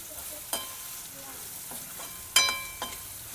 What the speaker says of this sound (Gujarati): આ રીતના મિક્સ કરીને અને તેલમાં સરસ મજાના આપણે તુરિયાને સડવા દેવાના છે